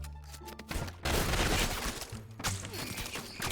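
Gunfire in the online shooter game Rounds with frozen bullets, a dense burst of crackling shots and crashing impacts, loud and busy with brief gaps, no voice over the barrage.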